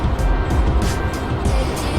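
An Audi A8 W12 6.0 D2 drives along with a low, smooth engine hum and road rumble, steady and fairly loud across a short stretch.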